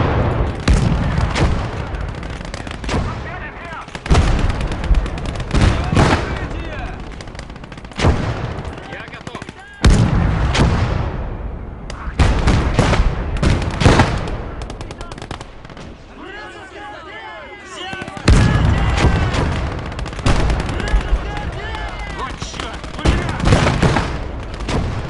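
Dense gunfire and heavy weapon blasts from the WWII strategy game Gates of Hell: Red Star Rising, with bursts of machine-gun fire and booming shots repeating throughout, loud and continuous with brief lulls, and a voice talking over parts of it.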